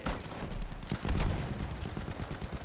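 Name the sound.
suppressing gunfire in Battlefield V video game, Sten gun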